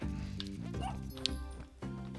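A dog in the video game Spelunky 2 gives a few short barks over the game's music, fairly faint and brief.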